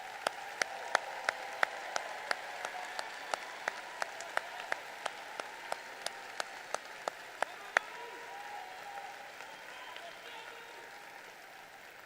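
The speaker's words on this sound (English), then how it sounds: "Please give these students a round of applause." Graduation ceremony audience applauding the students, steady crowd clapping under a regular series of sharp, evenly spaced clicks or claps that stop partway, after which the applause continues softer and fades out.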